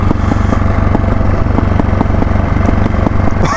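A 2008 KTM 525 EXC dirt bike engine runs steadily, a close, loud single-cylinder thump with rapid even pulses and light crackle, no voices over it.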